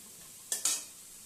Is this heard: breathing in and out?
no